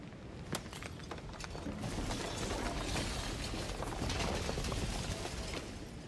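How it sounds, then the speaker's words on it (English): A shattering effect from the game Slay the Princess: a sharp crack opens it, then a dense, sustained wash of breaking, grinding debris that swells and stays loud to the end, with no voices. "And then the shattering."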